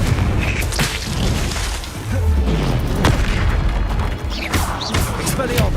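Confringo explosive spell blasts in the Hogwarts Legacy video game, a series of loud booming bursts and thuds layered with crackling impacts over continuous game background sound.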